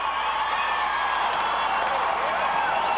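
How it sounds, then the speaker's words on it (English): Crowd at a 1987 Minnesota North Stars alumni hockey game rousing itself, a steady, distant arena roar of cheering and clapping that stays fairly even throughout with no clear breaks. "Crowd getting a little roused up here, trying to spur the Celebrity All-Stars on a bit"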